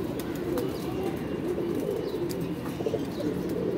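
A netted pigeon, a Zira-type bird just caught, coos and flutters close by in a steady low murmur, with faint chirps over a busy background.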